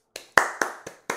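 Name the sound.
clapping noises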